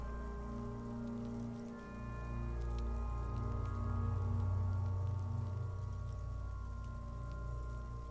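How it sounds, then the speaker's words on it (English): Light drizzle falls outside a dark shed in Disco Elysium, a soft, steady patter of rain under a sustained low tonal drone and ambient music, continuous and fairly quiet with no talk. "It's raining outside, light drizzle."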